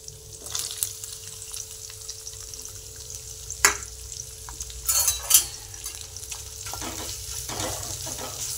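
Onion and fresh grated coconut roast in a pan for egg curry, giving a steady low sizzle with intermittent stirring scrapes and a few sharper clinks of the utensil against the pan.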